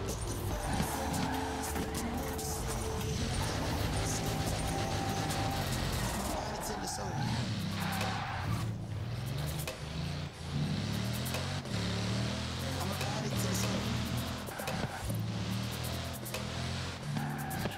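Engine roar and tyre skids from a car, a Bugatti, racing in the video game Forza Horizon 4, loud and continuous with shifting revs, playing under game music and a talking voice.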